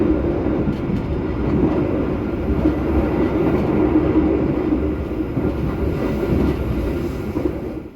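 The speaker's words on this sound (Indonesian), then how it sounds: "Kereta api Harina kini telah tiba di stasiun Semarang Tawang" Harina economy premium passenger train rolling along the rails, a steady close rumble and clatter from inside the carriage that holds an even level throughout with no talk.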